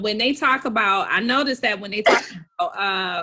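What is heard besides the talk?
sneeze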